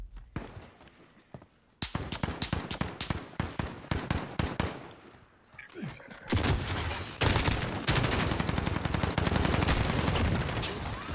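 Hip-fire gunfire in Call of Duty Modern Warfare: a quick series of separate rifle shots, then after a short pause a loud, nearly unbroken automatic burst that fills the final seconds, with no talking.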